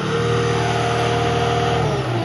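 Engine of a remote-controlled Cat 289D compact track loader idling steadily, a loud continuous drone with a constant hum and no talk over it.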